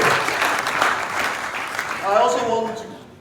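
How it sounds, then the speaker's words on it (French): Applause from a convention audience at a business summit, fairly loud, with a voice speaking over the clapping toward the end. "A round of applause to God"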